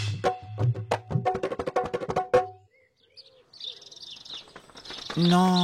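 A bird chirps with quick, high, thin calls in a comedic audio drama scene, heard after a burst of spoken dialogue and followed by more voices.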